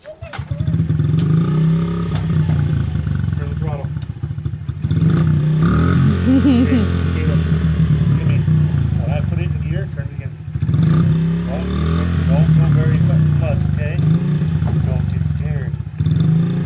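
A motorcycle engine idles and revs loudly and close by during a first riding attempt, its steady rumble rising and falling while a person talks over it.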